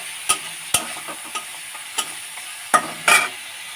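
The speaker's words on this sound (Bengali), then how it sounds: "তেলের উপরে পেঁয়াজ ও কাঁচা লঙ্কা দিয়ে কষিয়ে নিচ্ছি মশলা দিয়ে" Onion and green chilli cook in oil with spices in a pan for a fish curry, a quiet sizzle punctuated by a handful of sharp spatula scrapes and taps spaced irregularly, with no voices.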